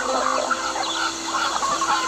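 Farm chickens clucking steadily close by, a dense busy flock sound with overlapping calls and no talking.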